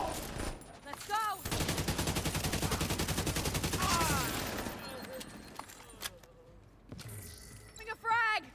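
Rapid automatic gunfire in The Division, a dense sustained burst of shots for several seconds with scattered single shots and game effects before and after.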